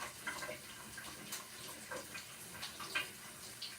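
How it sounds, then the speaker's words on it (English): Cold tap water running while food is rinsed in a kitchen, a faint soft splashing stream with small spattering bursts as it hits the food, quiet and close with no talk. "I use the cold water. I just rinse it off."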